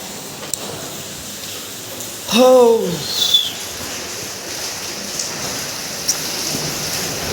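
Steady rain falls through the night, a soft continuous hiss across the whole stretch, broken once near the middle by a short, loud tonal call that bends and wavers before fading.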